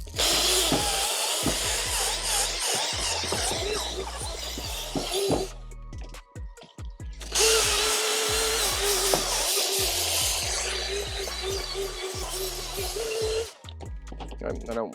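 A small power drill whirs in two long bursts with a brief pause between, a scrubbing rattle under it as it cleans sneaker outsoles, and occasional clinks nearby.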